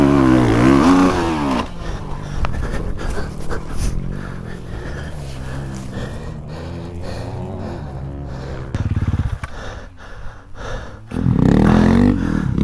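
A Honda CRF 450 dirt bike engine revs hard up close at the start, settles into a rough, uneven idle, then surges back into loud revving near the end.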